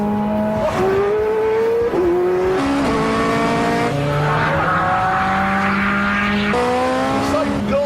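A Ferrari F430 Scuderia engine revving through rising gears, each climb dropping in pitch at the shift, roaring close and continuous with a voice talking over it.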